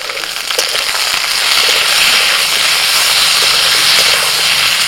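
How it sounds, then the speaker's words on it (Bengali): Potatoes, onions, green chillies and tomatoes sizzle in a hot pan, a loud, steady frying hiss with crackles and spits. It swells after the first half-second and then holds continuous, with no talk. "আলুটা একটু ভেজে নিয়ে এবার দিয়ে দিচ্ছি পেঁয়াজ কুচি, কাঁচা লঙ্কা চেরা আর টমেটো কুচি।"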